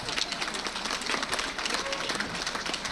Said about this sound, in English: And the parents are all applauding.